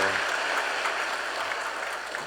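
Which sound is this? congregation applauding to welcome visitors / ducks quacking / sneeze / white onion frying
congregation applauding to welcome visitors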